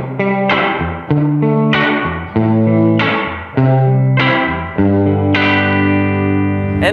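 Electric guitar notes and chords played through a Fender Reflecting Pool pedal on its hall reverb setting, each phrase ringing out into a long, lush decaying tail, loud and close with no talking.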